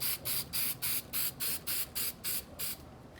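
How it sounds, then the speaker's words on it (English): Spray paint hisses onto Suzuki GSX-R1000 motorcycle parts in about ten short, evenly spaced bursts, close and sharp, with the last burst trailing off into quiet. "This is the first spray for y'all."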